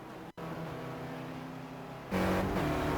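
Race cars roar past on the Pocono Raceway North Course in a racing video game, a steady engine drone that briefly drops out, then swells louder near the end as more cars go by.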